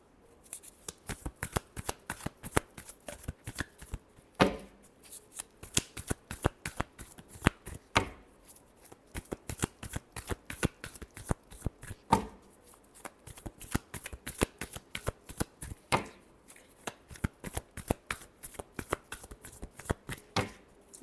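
Tarot cards being shuffled by hand, a long fast series of crisp riffling snaps that come close and steady, broken by a few short pauses, with no voices.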